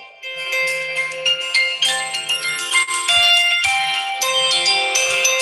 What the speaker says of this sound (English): That's just the stock ringtone on it.